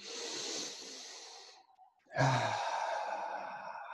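A long audible exhale through the mouth, a brief pause, then a strong deep inhale during a calming yoga breathing exercise, close and alone.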